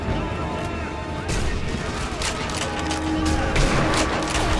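Gunfire in the Sniper Elite V2 video game, a rifle shot at a gas can near tanks, heard as several sharp loud cracks over a dense, rumbling battle-sound bed.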